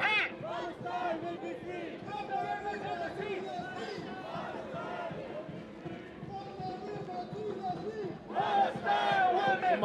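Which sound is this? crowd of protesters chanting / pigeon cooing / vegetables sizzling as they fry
crowd of protesters chanting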